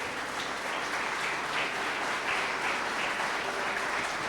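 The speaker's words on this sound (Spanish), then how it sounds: "Dele un aplauso al Señor por esa palabra" Congregation at a church service applauding, a continuous, evenly sustained patter of many hands clapping throughout, fairly loud and without any voices over it.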